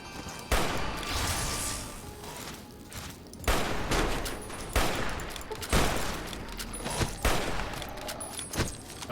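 Hunting rifle fire in Fallout New Vegas, several sharp, loud shots spaced a second or two apart over a constant noisy game background, with no voices.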